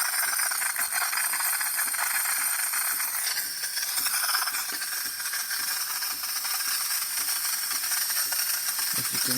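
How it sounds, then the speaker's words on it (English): A steam wand on a Gaggia Academia espresso machine, serviced for failing to build pressure, hisses loudly and steadily at close range, a continuous bright rush that holds for several seconds with no one talking. "Steam, not hot water,"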